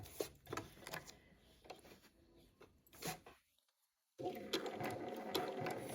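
A sewing machine runs a blanket stitch around an appliqué heart with interfacing, whirring in short bursts with a pause near the middle, then running steadily again toward the end, close and moderately loud.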